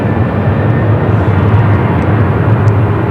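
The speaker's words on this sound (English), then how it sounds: "that DHL 767 getting closer over there to 25 right" A DHL Boeing 767 airliner approaching runway 25 right at Phoenix Sky Harbor, a loud, steady low engine roar and rushing drone that holds constant throughout.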